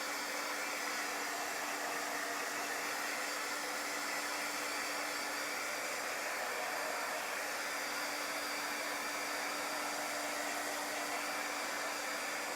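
A hair dryer-style heat tool runs continuously and loudly at close range, drying chalk paste on a baseball-themed craft sign, with a steady whirring hum throughout and no talking.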